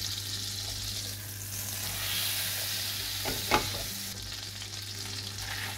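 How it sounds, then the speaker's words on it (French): Butter melting with a little oil in a frying pan, sizzling steadily and fairly close with a soft continuous crackle and brief louder pops, no talking. "Dans une poêle, je fais fondre le beurre avec un petit peu d'huile."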